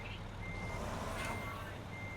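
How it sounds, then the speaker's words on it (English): Backup alarm of a truck in American Truck Simulator, beeping in a steady repeated pulse over a constant low engine rumble, with no talking. "Hit W once just to turn off your backup alarm."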